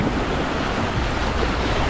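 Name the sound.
sea waves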